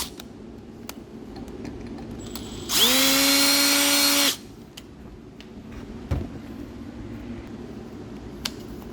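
A power drill with a 9/16 bit whirs loudly for about two seconds, spinning up and boring steadily before stopping, with light handling clicks in a quiet space.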